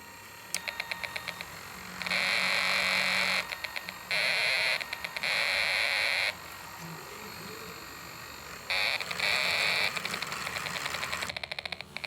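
A Snap Circuits Deluxe Light & Sound electronic kit emits a steady buzzing electronic tone in several bursts of one to two seconds, separated by quieter stretches with a faint whirring background.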